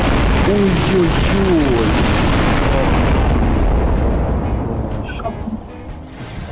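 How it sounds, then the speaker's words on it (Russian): Loud, sustained boom of an explosion in the video game Garry's Mod, broad rumbling noise that holds for several seconds then slowly fades, with a voice briefly exclaiming over it. "Давайте буду взрыв свой эпический этот."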